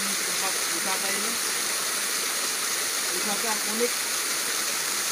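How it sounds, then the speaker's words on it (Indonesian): A small mini waterfall pours in a steady broadband rush throughout, with a person speaking briefly over the constant water sound. "Semacam air terjun mini."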